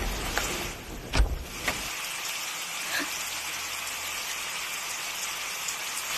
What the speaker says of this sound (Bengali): আবার বৃষ্টি।